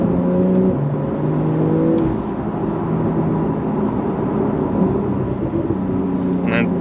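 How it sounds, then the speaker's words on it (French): A Porsche 911 991.2 GTS with 450 hp accelerates on a wet, greasy surface, its exhaust note a steady, loud engine drone that holds for several seconds with gear changes and a few faint crackles near the end. "On a un très joli retour à l'échappement."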